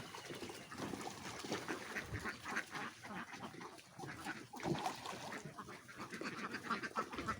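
A flock of laying ducks quacking after their evening feed, wandering out to play in the water instead of going into the pen; steady layered chatter of many birds at moderate distance, fairly faint, with no talk.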